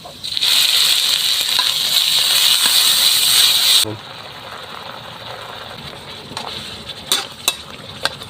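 Squid and holy basil stir-fry in a hot pan, a loud bright sizzle for about four seconds before dropping away, followed by a few sharp clinks and scrapes of the utensil.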